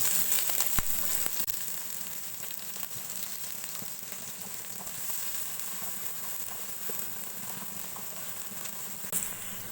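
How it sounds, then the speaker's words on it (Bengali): Onion and green chilies frying in oil in a wok, a steady close sizzle with soft crackles running throughout, a few sharper pops near the start and end. "পেঁয়াজটা আমি ভেজে নিয়েছি,"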